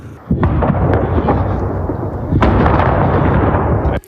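Loud, deep explosions boom close by among ruined buildings in a frontline town, one at the start and another partway through, each leaving a rumbling, crackling roar; no voices.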